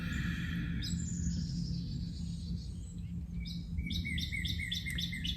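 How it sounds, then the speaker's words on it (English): Several birds sing outdoors, their high chirps and repeated trills carrying over a steady low rumble of background noise, with a rapid run of bright notes near the end. "I have a soundtrack in the background right now of the birds outside."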